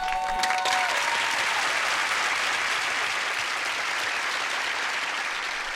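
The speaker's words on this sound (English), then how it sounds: "the audience claps for him, as they used to do on sitcoms" A sitcom studio audience breaks into dense, sustained applause, loud and even throughout with no voices over it.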